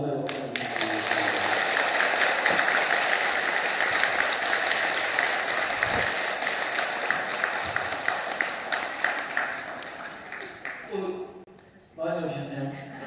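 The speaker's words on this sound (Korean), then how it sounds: "뜨거운 감사의 박수를 드리겠습니다." An audience claps warmly after a Buddhist monk's special dharma talk, a long steady wash of applause that fades out near the end, followed by a voice speaking.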